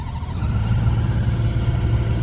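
Noisy AC blower motor in a Maruti WagonR cabin gives off a steady, loud low drone with a broad whooshing rush of air. It runs evenly throughout with no speech.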